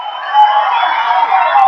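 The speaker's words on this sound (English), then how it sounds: "the crowd enjoying it" Cricket crowd at an Ashes Test between Australia and England, roaring and cheering after a boundary: a steady, dense wash of distant crowd noise that swells slightly and holds, with no talk over it.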